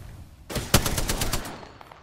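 A quick burst of automatic gunfire from Apex Legends gameplay, roughly ten close, punchy shots in a fast rhythm that starts abruptly and trails off with a short echo.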